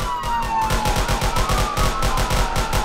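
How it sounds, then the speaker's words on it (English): Rapid gunfire in the Roblox police game ERLC sounds as a fast, steady string of loud shots, close and continuous. A siren-like wavering tone runs underneath. "Shots fired."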